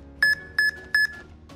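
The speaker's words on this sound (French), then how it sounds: "L'augmentation du rythme est signalée par 3 bips sonores." Three identical electronic beeps signalling a pace increase in an incremental shuttle walk test, in an even rhythm, loud and sharp, each a short steady tone, with a quiet background.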